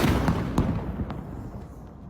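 A Gvozdika self-propelled artillery gun fires. Sharp blasts are followed by a long, rolling rumble that fades, with smaller distant thuds trailing off.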